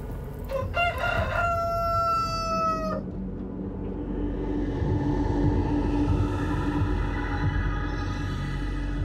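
A rooster crows loudly once, a long rising-and-falling call, followed by continuous background noise.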